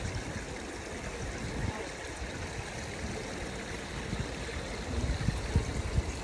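A waterfall near a glacier in Alaska, heard from a cruise ship, produces a steady broadband rush of falling water at a moderate distance. Voices speak faintly over it, and a few low thumps land near the end.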